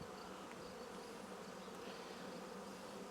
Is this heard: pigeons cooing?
no